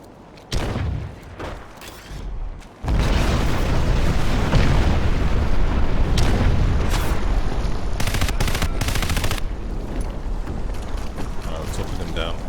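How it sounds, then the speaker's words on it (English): Grenade blasts in the shooter game Crysis Warhead: a sharp explosion, then a louder sustained roar of detonations and gunfire that fills the rest of the stretch, loud and dense with no talking. "16 grenades left, so let's throw a couple down there."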